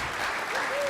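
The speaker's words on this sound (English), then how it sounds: "let's give Andres a round of applause for his great leadership." Applause for a panel member at a forestry foundation event, a steady wash of many hands clapping heard at moderate level throughout the brief moment, with a faint voice or whistle-like tone riding over it.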